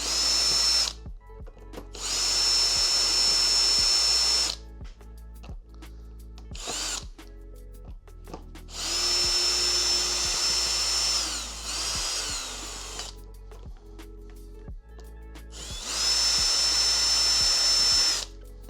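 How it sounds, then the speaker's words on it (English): An electric drill removes Torx screws from brackets on a BMW R1150GS Adventure motorcycle, whirring in several separate bursts of a few seconds each, with high whining spins and short quiet pauses between them. "I just use my electric drill, and we're just going to remove those brackets quickly"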